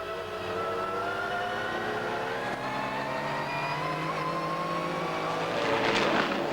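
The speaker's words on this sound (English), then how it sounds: "And finally, the XJ220 Jaguar of Wyn Percy at Surtees." A Jaguar XJ220 GT race car racing at Brands Hatch in the 1996 BPR GT series, its engine a sustained loud howl with shifting pitch, mixed with other cars' engines, rising slightly toward the end.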